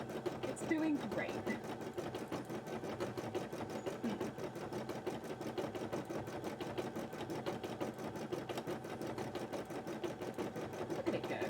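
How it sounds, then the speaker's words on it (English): A home embroidery machine stitches a large cosplay design, giving a steady, rapid mechanical chugging that runs evenly through the whole stretch at moderate level, with faint talk in the background. "my embroidery machine will gently chug"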